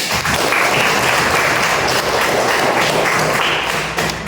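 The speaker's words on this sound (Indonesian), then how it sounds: "Tepuk tangan buat kalian." A school class of children applauds after practising poetry reading, producing a dense, steady wash of clapping that stays loud and close throughout.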